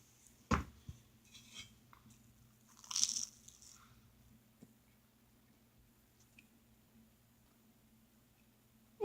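Toast made in an antique toaster is bitten and chewed, giving a sharp crunch, a softer crunchy burst a few seconds later, and quieter mouth sounds between, close up in a quiet room with no talk.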